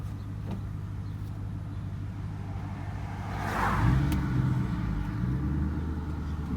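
A Ford Mustang with 400,000 miles on it revs hard nearby, a steady engine rumble swelling into a louder, rising roar midway through, with no voices over it.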